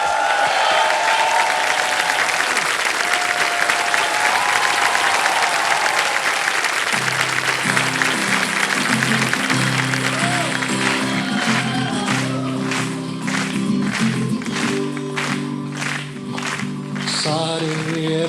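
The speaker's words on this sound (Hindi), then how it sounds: "तालियां बज जाए" Applause on a TV quiz show stage, a broad steady wash of clapping from a studio audience filling the whole stretch, with music and crowd noise rising underneath in the second half.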